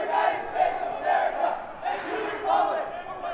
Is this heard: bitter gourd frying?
no